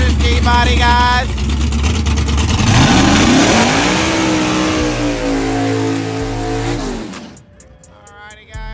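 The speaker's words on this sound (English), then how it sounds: "We're gonna have the nitrous G-body, guys." A nitrous-equipped G-body race car engine revs hard and close, climbing in pitch and holding a loud roar before dropping off abruptly near the end.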